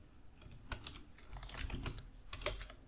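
Java code being typed on a computer keyboard, quiet, closely spaced keystrokes in an uneven, continuous rhythm with a few slightly firmer clacks.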